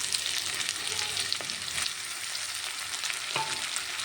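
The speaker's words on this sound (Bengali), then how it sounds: "এবার এর মধ্যে আমি রসুন আর লঙ্কা বাটাটা দিয়ে দেবো।" Sliced onion sizzling in hot oil with garlic and chilli paste for a Bengali dried-fish curry, a steady close hiss broken by occasional stirring scrapes.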